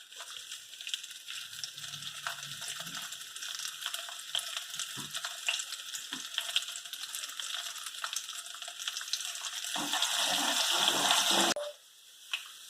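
Green chili fries in a hot pan with a steady, close sizzle that rises near the end before suddenly dropping away, with a few faint clinks and no talk.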